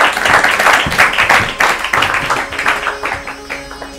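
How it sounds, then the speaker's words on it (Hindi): Studio audience applause on an Urdu quiz show, a dense, steady clapping from a crowd that stays loud at first and then gradually thins and fades, with no talking over it. "तालियों के साथ।"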